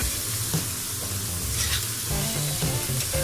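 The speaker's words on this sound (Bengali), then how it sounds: "মশলাটা একটু মিশিয়ে দিচ্ছি হালকা করে একটু নাড়াচাড়া করে" Cabbage curry with spices being stirred in a frying pan, a steady close sizzle with scraping stirring strokes running throughout, no talking.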